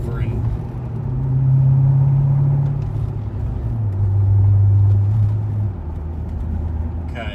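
A C6 Corvette rolls slowly up a highway on-ramp, its engine a steady low drone close by that swells twice into a louder hum before settling back.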